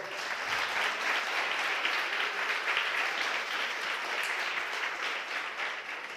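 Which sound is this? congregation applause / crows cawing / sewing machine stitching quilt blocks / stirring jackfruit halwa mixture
congregation applause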